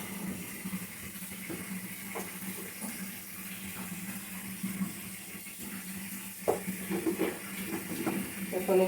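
Water pours into a frying spice mixture of Kashmiri chili powder and salt for egg korma, a hissing, bubbling sizzle with steady splashing and a few sharp clinks near the end; a person talks over it.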